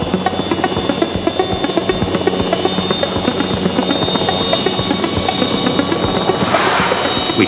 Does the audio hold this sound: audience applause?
no